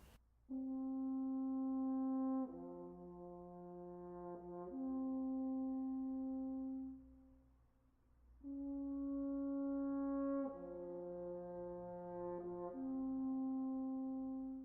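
A French horn plays a slow, sustained theme from Bruckner's Fourth Symphony in two phrases, each stepping through a few long held notes, with a short pause between them.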